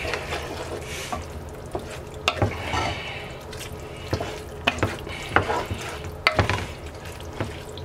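Tomato juice is being stirred into Spanish rice in a pan, giving wet, sloshing scrapes and soft clinks in an irregular rhythm, close and fairly quiet, with no talking.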